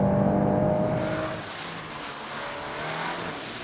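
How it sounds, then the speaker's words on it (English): Volkswagen Golf 8 R Variant 2022 drifting on a wet racetrack surface, a steady close engine roar with hissing spray from the tyres, fading slightly then holding. "with this drift mode, whoa, tires flying all over the place here"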